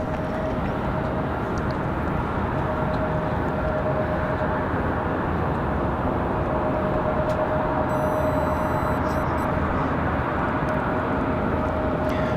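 Frontier Airbus A320 arriving from Philadelphia at Raleigh-Durham airport: a steady, broadband jet engine rush holds throughout, moderately near and unbroken, with a thin constant whine riding above it.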